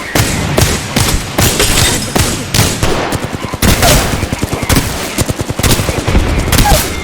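Rapid gunfire in Apex Legends, loud dense bursts of automatic shots in quick stuttering strings with short pauses, close and dominant throughout.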